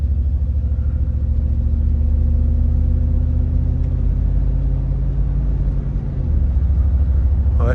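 A Cadillac Escalade recently converted to two-wheel drive, fitted with MagnaFlow mufflers, drives along with a loud, steady low engine drone that shifts gear near the end, the rumble dipping and then resuming at a new pitch.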